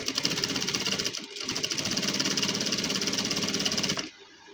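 A sewing machine stitching a double-stitched gents suit, a fast steady mechanical chatter running close and loud for about four seconds, with one brief slowdown, before stopping abruptly.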